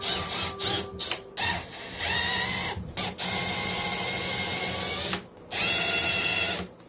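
A power drill bores holes through wood for a DIY fly-tying station, whining loudly in several long bursts broken by short pauses.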